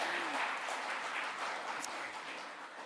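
An audience at a live poetry and student literary awards event claps in a dense, steady wash of applause that fades slightly toward the end. No one speaks over it.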